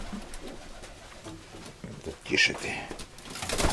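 Pigeons coo softly close by in a loft, low throaty calls under a voice speaking quietly.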